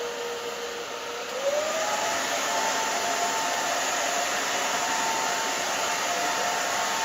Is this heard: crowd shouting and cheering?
no